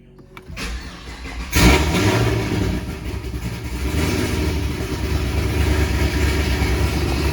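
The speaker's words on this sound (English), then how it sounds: "Just gonna turn on the car, check the oil pressure, let it idle for a little bit" A car engine cranks and catches after an oil change, then settles into a steady, loud idle that continues close by with a slight rise in revs.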